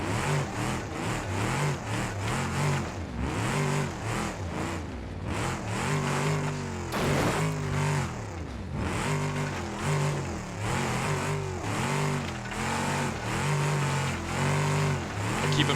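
A badly damaged car engine in BeamNG.drive, critically low on oil with rod knock, a leaking radiator and a deflated tire, revs and labors in repeated rising and falling surges, loud and continuous with no talking.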